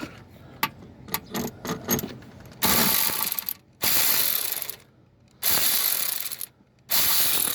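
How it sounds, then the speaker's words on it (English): Power ratchet whirring in four long bursts on a 2006 Toyota RAV4 V6 engine, preceded by a scatter of short clicks and taps, loud and close with brief silences between runs. "So don't use a power ratchet on there, I guess."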